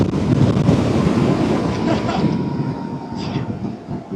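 A Harley-Davidson electric motorcycle accelerating hard toward 60 mph, its steady motor whine buried under loud, continuous wind rush across the microphone, with no talking.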